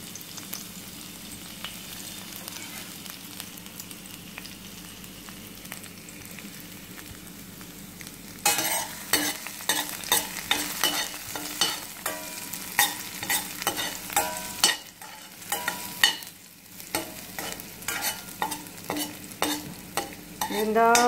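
Garlic frying in oil in a pan, a steady sizzle that turns louder and crackling partway through, with bursts of stirring and spatula scrapes near the close.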